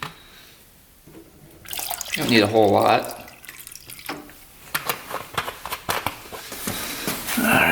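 Simple Green degreaser poured into an ultrasonic cleaner while a motorcycle carburetor is being cleaned, a short close splash of liquid followed by light clinks and handling, with someone talking briefly before and after.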